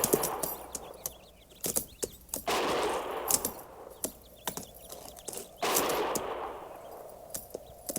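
Sharp gunshots crack irregularly at a distance, mixed with bursts of rushing noise and occasional thumping hoofbeats.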